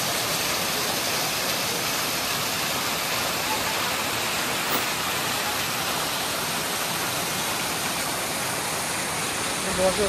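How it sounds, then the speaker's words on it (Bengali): Water cascading down the waterfall at Rock Garden, Darjeeling, makes an unbroken, rushing hiss at moderate level, with no other clear sounds. "এই যে ঝর্ণাটা নিচে গিয়ে পড়ছে,"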